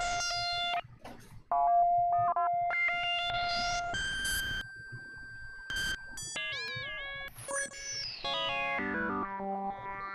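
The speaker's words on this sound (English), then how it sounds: "This is the MicroFreak playing." Arturia MicroFreak synthesizer playing a soloed sequence of shifting electronic tones, with sustained notes, pitch-bending warbles and descending sweeps, fairly quiet and steady throughout, no voices.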